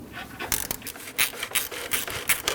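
A wrench backs out the two 10mm bolts holding the radiator fan on a 2012-2016 Honda CR-V 2.4L, giving a series of sharp, rhythmic ratcheting strokes close up with short pauses between them.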